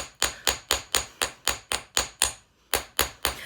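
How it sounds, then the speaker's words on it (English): A ball peen hammer strikes a wire-wrapped beaded bangle in a steady run of sharp metallic blows, about a dozen close, evenly spaced hits with one brief pause near the end. "And we're going back to the ball peen now."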